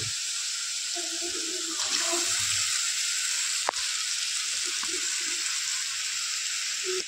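Tomato and onion paste fries in oil for a mutton curry, giving a steady, soft hiss and sizzle throughout, with a few faint clinks and stirring sounds along the way.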